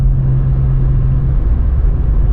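Steady, loud low rumble of a red VW Up GTI's small engine from inside the car while driving, a constant throaty drone with no pauses and no talking.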